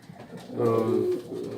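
Pigeons in Dushanbe, Tajikistan, cooing close by in a short low throaty burst that swells and holds, with faint background noise around it.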